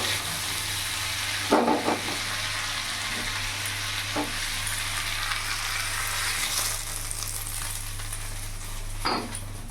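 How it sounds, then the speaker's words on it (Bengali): Continuous loud sizzle of pointed gourd frying in a pan, with a few soft scrapes of stirring, no voices. "এদিকে পটলটাও ভাজা হয়ে গেছে, আমি এবার নামিয়ে ফেলবো।"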